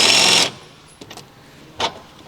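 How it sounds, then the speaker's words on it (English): An electric impact wrench with an 18mm long socket hammers briefly on the front lower control arm bushing retaining bolt of a Chevrolet Cruze, one loud rattling burst of about half a second, then light metallic clicks. "Using the 18mm wrench with the 18mm long socket and electric impact wrench, remove the front lower control arm bushing retaining bolt."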